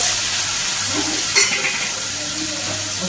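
Onion and tomato sautéing in a pan with cumin and curry leaves in a home kitchen, a steady close sizzle of frying with a spoon stirring, and a brief scrape or clink partway through.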